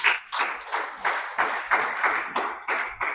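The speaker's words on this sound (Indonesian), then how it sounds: "Tepuk tangan bagi Tuhan." A church congregation at an Indonesian-language sermon claps in unison, sharp group claps falling in a steady rhythm about three per second, loud and close, with no talking.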